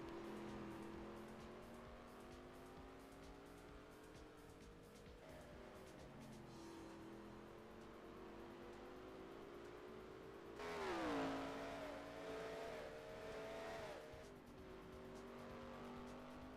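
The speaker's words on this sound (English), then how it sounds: "seeing the scenic view that only you can see with race cars on the street" Race cars run a New York City street circuit in the NR2003 racing game, engines droning steadily as the revs climb and fall through gear shifts, with tire squeal and a louder surge of passing cars midway.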